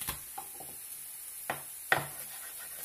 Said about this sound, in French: je vais hacher mon ail. Donc, vous écrasez